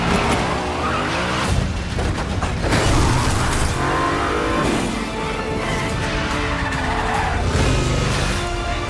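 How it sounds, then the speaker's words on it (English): A car drifting through the streets of Rome during a film stunt, tires squealing and skidding continuously over loud engine noise, close and sustained throughout. "driving and drifting one-handed through the streets of Rome"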